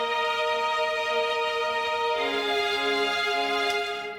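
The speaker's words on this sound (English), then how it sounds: "just the strings will sound like this" Orchestral string section with violins holding soft, sustained romantic chords, the harmony shifting partway through, smooth and quiet with no talking.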